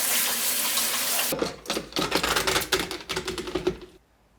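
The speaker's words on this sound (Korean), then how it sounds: "찬물에 헹궈 물기를 꽉 짜줄게요." Blanched vegetables are rinsed under a running cold tap, water splashing and spattering close by for a few seconds after a steady rush of flow, then stopping abruptly, with no talk.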